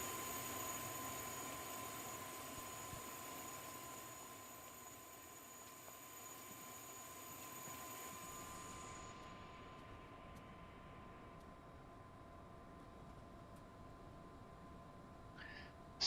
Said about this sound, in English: Deafened by the APU.